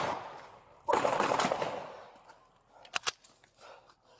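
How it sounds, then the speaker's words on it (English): Gunfire during a police encounter, a loud burst of noise followed by several sharp, distinct shots cracking out in quick succession. "Shots fired! Shots fired! Officer needs help!"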